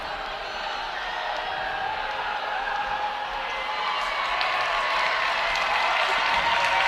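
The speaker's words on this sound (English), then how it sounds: "The crowd getting excited" A crowd at a women's college basketball game cheers and claps steadily throughout, a broad rising roar of voices and applause filling the arena at moderate loudness with no single clear call standing out.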